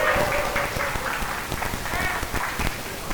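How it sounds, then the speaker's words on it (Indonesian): A classroom group claps together in a steady burst of applause during a mathematics lesson, the patter close and continuous for a few seconds, with a few voices mixed into the clapping. "tepuk tangan untuk kita semua"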